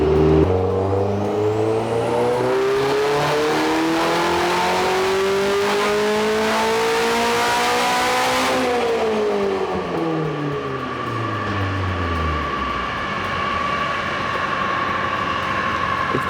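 A K24-swapped Subaru BRZ on a dyno, running low boost, roars loudly as revs climb steadily for about eight seconds, then fall away and settle toward idle, with a continuous harsh exhaust note throughout.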